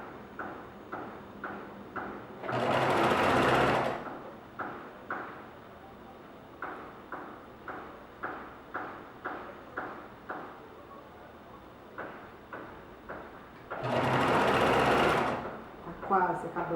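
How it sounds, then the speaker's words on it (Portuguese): A sewing machine runs while a skirt is sewn, its motor whirring in a long, even hum with rhythmic stitching ticks, broken by two louder bursts of faster running; someone talks briefly over it. "E a minha máquina tá andando."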